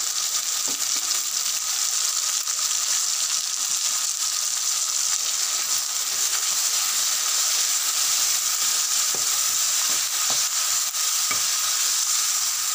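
Masala paste with tomato juice added, frying in a pan for an okra curry: a loud, continuous sizzling hiss held steady throughout, close up, with faint scrapes of stirring and no talk.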